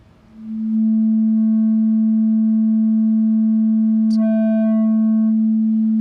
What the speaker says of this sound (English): So here's a little demo of it with using a sine wave as input. So with a really low gain, then it comes out just like a sine wave.